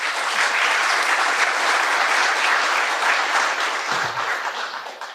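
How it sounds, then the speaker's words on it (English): Dense, loud applause from an audience at a technology showcase's autonomous vehicle panel greets the panelists, holding steady and then tapering slightly near the end. "Can I have a round of applause for them"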